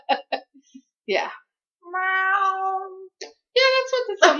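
A human voice imitates cats meowing: a few short yowls followed by a long, drawn-out whining meow and another rising cry, all loud and close.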